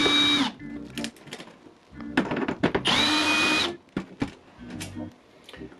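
A power drill backs screws out of an appliance control panel and outer shell, running in several bursts of a few seconds each with brief pauses and short clicks between them, loud and close.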